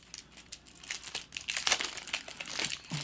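Close, quiet crinkling and rustling as a pack of board game cards is unwrapped, irregular plastic crackles and crunches coming in quick bursts.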